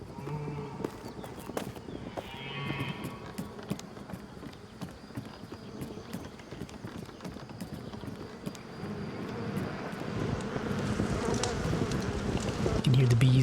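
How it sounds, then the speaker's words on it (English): Bees buzzing on an upper floor in the medieval online game Pax Dei, a steady low insect drone beneath a busy mix of footsteps and clatter that grows louder toward the end. "You can hear the bees upstairs."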